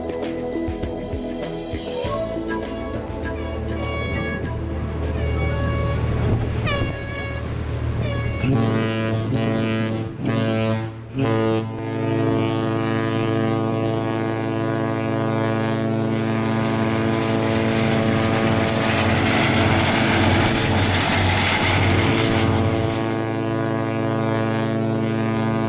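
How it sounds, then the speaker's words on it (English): A cruise ship's deep horn blasts long and loud while departing Fort Lauderdale, its sustained layered tone holding for most of the stretch with a brief break in the middle, wind rumbling over the microphone and no talk. "Under much noise from the ship's horn, we are accompanied out of Fort Lauderdale."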